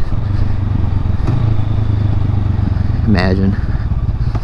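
A motorcycle engine rumbles steadily up close beneath a person talking, then its pitch briefly climbs as the bike pulls away without throttle and the clutch is dropped.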